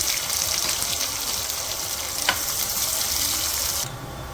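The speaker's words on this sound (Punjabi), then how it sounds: "ਹੁਣ ਅਸੀਂ ਬਰੀਕ ਕੱਟੇ ਹੋਏ ਪਿਆਜ਼ ਪਾ ਦਾਂਗੇ" Finely chopped onions sizzle and fry in hot ghee in a pan, a steady dense hiss with a brief stir partway through, close and loud with no talking, then a sudden drop in brightness near the end.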